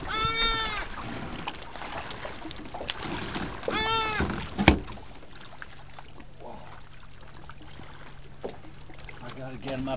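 Goats bleat twice in quick succession outdoors near a river bank, loud and close, followed by quieter ambient noise and a faint thump.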